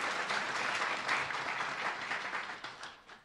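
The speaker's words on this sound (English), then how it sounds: "So a round of applause for Ryan, our superstar meteorologist." Brief burst of audience applause for a meteorologist at a student news awards ceremony, steady moderate clapping from a crowd that fades at the end.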